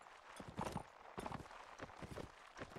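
Horse hooves clip-clopping in a strategy game match, faint, quick irregular thuds of a galloping mount over low background game noise.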